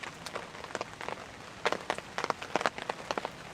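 Rain falling steadily at a fishing spot in the margin of the water, a soft broadband patter with brief louder bursts of drops, moderately close and without voices.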